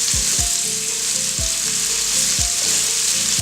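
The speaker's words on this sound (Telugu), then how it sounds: "ఈ వెజిటేబుల్స్ అన్నీ ఆయిల్లో కొద్దిగా ఫ్రై చేయాలి." Vegetables for sambar fry in hot oil with a steady, loud sizzle that runs throughout, and occasional low knocks from stirring sound at a regular pace.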